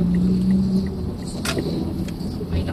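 A manual car driving in second gear gives a steady, close low engine and road rumble, with a short tone near the start and a faint click midway.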